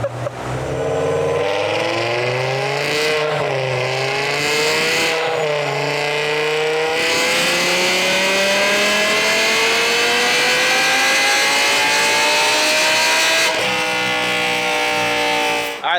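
A heavily modified BMW E60 M5 screams through a dyno pull, its engine climbing steadily in pitch with loud sustained revving, brief dips at gear changes, then a final shift near the end, close and dominant throughout.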